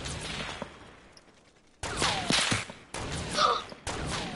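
Bursts of gunfire in the video game Fortnite crackle in three separate rapid volleys after a quieter stretch, sharp and fairly close, with faint background noise between the bursts.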